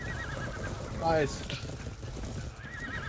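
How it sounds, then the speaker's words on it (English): A horse neighs loudly in a descending whinny amid the battle noise of the video game Odin's Chosen, a brief cry over constant clash and rumble, with a voice speaking briefly. "I killed the horse on the horse car."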